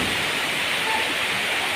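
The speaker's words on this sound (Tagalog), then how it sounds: "Lakas-lakas talaga ng ulan." Loud, steady downpour of heavy rain, a dense continuous hiss with no pauses and no voices.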